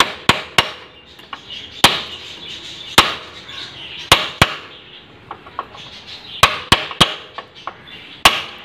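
A bicycle cone ring being tapped tight on a hub axle with no spanner, giving a string of sharp, bright metallic taps at uneven intervals, loud and close.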